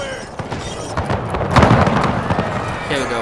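Cannons fire in the Napoleon: Total War Waterloo multiplayer battle, several booming shots and thuds in quick succession amid battlefield noise.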